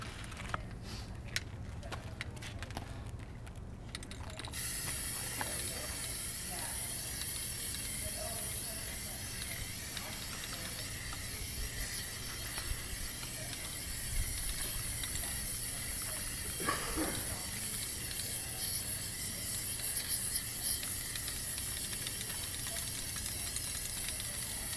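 An aerosol can sprays Plasti Dip in a steady, close hiss that runs almost unbroken for many seconds. A few faint clicks and rattles come at the start.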